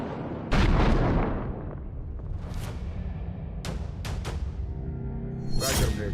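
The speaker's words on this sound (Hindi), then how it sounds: "कैस्पियन सागर में पहला धमाका" A heavy explosion in the Caspian Sea sounds as a sudden deep boom followed by a long rumbling roar, with several sharp bursts and blasts after it.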